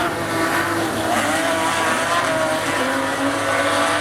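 Modified race cars at Rockhampton Speedway roar around the dirt oval in a continuous, dense engine drone with changing pitch, loud and steady throughout, with no voices.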